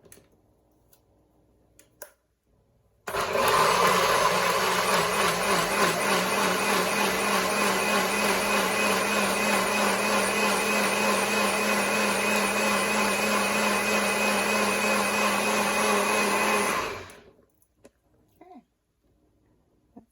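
A blender whirs loudly and steadily for about fourteen seconds blending salsa verde, starting abruptly and winding down at the end, with quiet moments before and after.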